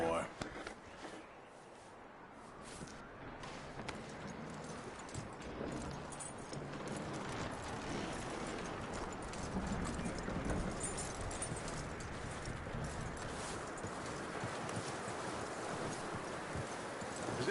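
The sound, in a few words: horse hooves clip-clopping, from a video game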